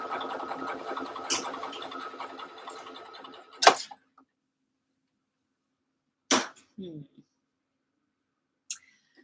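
A sewing machine stitches dress fabric with a shortened stitch length for gathering, running in a steady buzzing burst for several seconds, then stopping, followed by a few isolated clicks and handling knocks in near silence.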